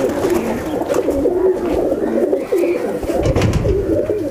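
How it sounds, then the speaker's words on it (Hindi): Umbrella-type low-flyer pigeons cooing close by on a rooftop loft, repeated soft throaty coos in a steady rolling rhythm over light background noise. "ये पहली वीडियो में सारे जो हैं काशिफ भाई के छतरी वाले कबूतर दिखाएंगे"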